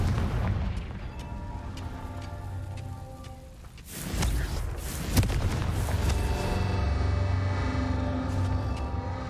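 Confringo explosion spell in the video game Hogwarts Legacy, a deep rumbling blast with a crackling burst, then a sustained roaring rumble under game music, no talking.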